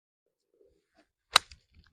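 Golf club striking the ball on a tee shot at a par-3 hole in freezing windchill, one crisp close click with a faint second tick after it, set against near silence.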